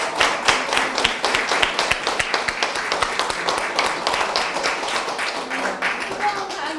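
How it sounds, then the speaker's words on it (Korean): Audience applause following a lecture at a gender-equality event, a lively burst of many hands clapping that carries on steadily, with an announcer's voice speaking over it. "다시 한번 큰 박수를 보내드립니다"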